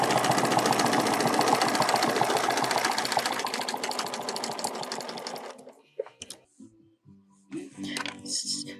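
A sewing machine runs steadily for about five seconds while stitching a quilted feather template along a quarter-inch seam, its fast dense whir close and loud, then stops and leaves a few soft handling knocks.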